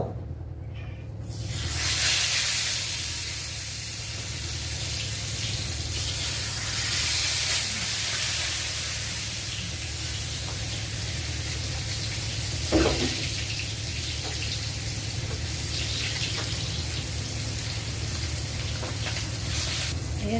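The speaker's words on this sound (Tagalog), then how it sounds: "iprito na natin yung isda." Fish fries in a pan with a loud, steady sizzle and hiss that swells briefly near the start and then holds even and continuous, with no talk over it.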